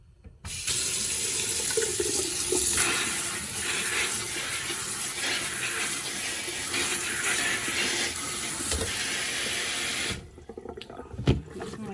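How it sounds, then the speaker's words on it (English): Running tap water pours steadily into a kitchen sink over fresh strawberries being rinsed, a continuous close splashing rush for about ten seconds before cutting off, followed by a few soft handling sounds. "I'm just gonna move them over to the sink. I'm gonna drop some water on them."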